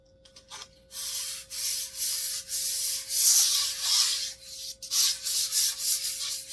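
Rough hand-sanding strokes rasp back and forth up close on a wooden dresser in an uneven rhythm, with a few brief pauses between passes.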